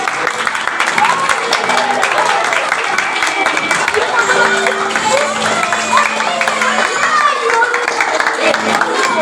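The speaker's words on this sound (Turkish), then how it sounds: "Evet hep beraber alkışlıyoruz." Classroom students clap together for their teacher at a surprise birthday, a fast, uneven patter of many hands mixed with excited chatter and voices talking over it throughout.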